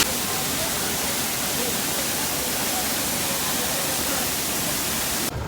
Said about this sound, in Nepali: पानी परिरहेछ पुरै पानी परेर कस्तो भइरहेछ